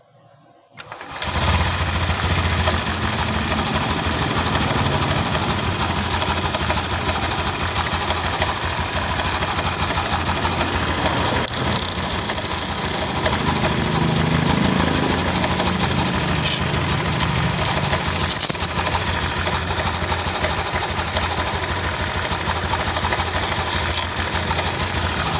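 A Honda Genio scooter engine with a knocking fault starts up after a brief quiet moment, then runs steadily with a dense, rattling mechanical clatter throughout, close and loud, with no talking.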